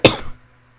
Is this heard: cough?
yes